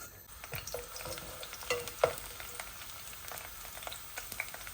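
Red spinach and garlic cloves stir-frying in a pan, a steady soft sizzle with scraping stirs and small crackles, close and moderately quiet with no talking.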